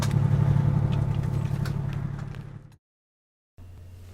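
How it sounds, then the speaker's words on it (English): A fire engine arriving at a vehicle-incident training scene idles with a loud, steady low rumble that fades, cuts to silence, then returns more quietly. "Watch here as Engine 2 arrives on scene"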